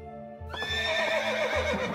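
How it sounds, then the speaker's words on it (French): A horse neighs loudly in a long, wavering whinny, sounding like a rearing horse, with faint hoof clops underneath and no talking. "Un cheval cabré."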